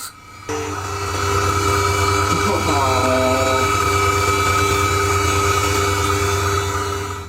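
A gem saw slicing through an opal gives a steady whining, humming drone that starts abruptly and runs on evenly and fairly loud throughout.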